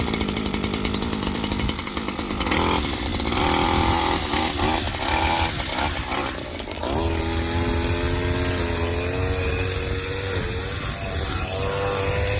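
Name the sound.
power tool trimming, likely a chainsaw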